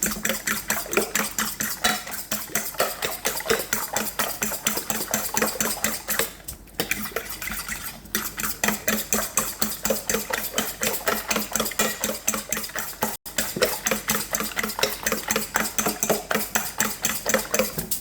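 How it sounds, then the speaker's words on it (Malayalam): A fork beats egg in a bowl with fast, steady clinking strokes, close and clear, keeping an even rhythm for a long stretch with only a couple of brief breaks. "നല്ലതുപോലെ ഒരു പോർക്ക് വെച്ചിട്ട് നല്ലപോലെ ഒന്ന് ബീറ്റ് ചെയ്തെടുക്കണം"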